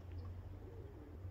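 Pigeons outdoors, heard faintly and at a distance under a steady low background rumble, with a couple of soft brief calls near the start.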